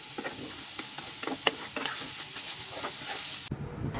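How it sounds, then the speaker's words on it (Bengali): Marinated chicken fries in a little oil in a pan with a close, crackling sizzle and occasional stirring clicks. It cuts off abruptly near the end. "প্যানে 2 টেবিল চামচ তেল দিয়ে ম্যারিনেট করা চিকেনটা ভালো করে ভেজে নেব"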